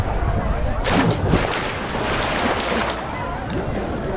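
At Crash Boat Beach, a person dives into the sea; a rushing splash of water with wind buffeting the microphone and surf around, close and loud, with voices talking through it.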